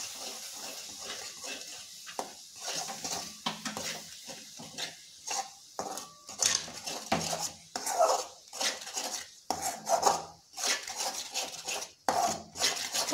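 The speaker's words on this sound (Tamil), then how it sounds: "அதை நான் இதில் கரைச்சி விட்டுட்டு நல்லா கலக்கணும்." A spoon stirs a cornflour mixture in a pan while making date halwa, scraping and clinking against the metal in irregular, close strokes with brief pauses between them.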